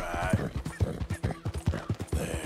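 Hooves clop in a steady, quick rhythm as a horse is ridden in a Western video game, close and continuous, with a faint voice or horse snort briefly in the background.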